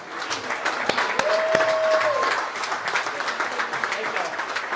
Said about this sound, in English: Everybody give a big round of applause for Buckeye High School's quarterback, Cade